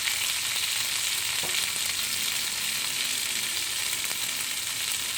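Asparagus searing in olive oil in a hot pan, seasoned with garlic, salt and pepper, giving a loud, steady hissing sizzle that holds at the same level throughout.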